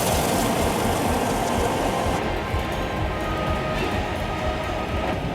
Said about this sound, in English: See another train coming on the other track now.